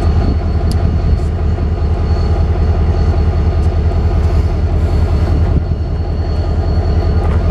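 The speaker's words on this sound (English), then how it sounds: "the locomotive you're looking at has been around for 50 years now" An EMD-built diesel locomotive from 1965 running nearby, a loud, continuous low rumbling drone with steady mechanical texture and faint higher clatter, no voices over it.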